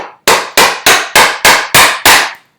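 A chisel is driven into wood at the knife line during bookcase joinery. Seven sharp, loud strikes land in a steady, evenly spaced rhythm, each ringing briefly before the next, with no talking.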